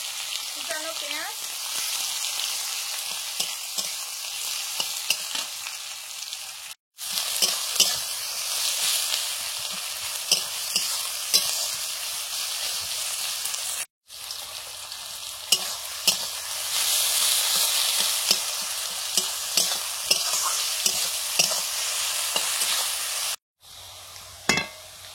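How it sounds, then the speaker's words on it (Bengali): Chopped onion fries in mustard oil in a home kitchen, a continuous close sizzle broken by sharp stirring scrapes and clatters, with brief cuts of silence between segments. "পেঁয়াজটা ভাজা হয়ে গেছে।"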